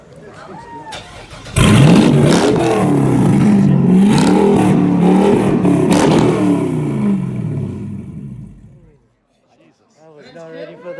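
A Devel Sixteen hypercar's 5,007-horsepower engine fires up at an auto show, bursting into a loud, roaring rev that holds for several seconds then fades and cuts off, with people talking before and after.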